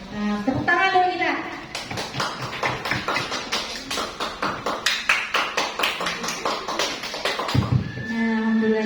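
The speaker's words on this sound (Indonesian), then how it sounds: "Nah, tepuk tangan dulu kita." An audience claps hands in a steady, rhythmic beat at a school teachers' session, with voices speaking briefly before and after the clapping.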